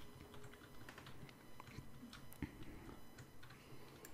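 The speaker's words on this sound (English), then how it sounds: "you simply type in the command game mode set 0" Quiet clicking of a computer keyboard as a game command is typed, a faint irregular run of key taps.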